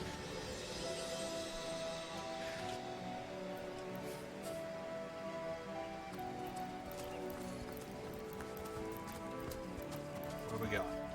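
Horse hooves clip-clop in the fantasy role-playing game Divinity: Original Sin, a light, steady patter of hoofbeats running under continuous game ambience and music.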